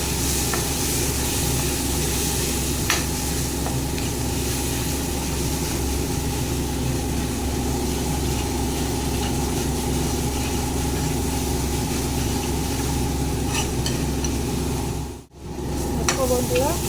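Spiced masala with Kashmiri chili powder and cumin powder fries in a pan for an egg curry, a constant sizzle with occasional stirring scrapes and a low steady hum underneath.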